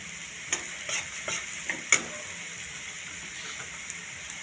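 Cumin, turmeric and other spice powders sizzle softly in a hot pan of oil for a rohu fish curry, with a few sharp scrapes and taps of a stirring spoon and no talking.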